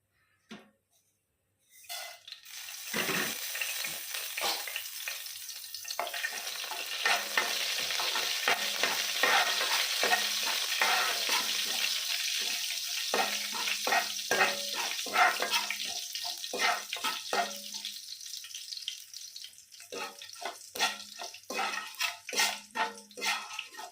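Mustard seeds and curry leaves tempering in hot oil for a stuffed bitter gourd fry, crackling and sizzling loudly and steadily after a brief quiet start, with sharp pops scattered throughout, close up.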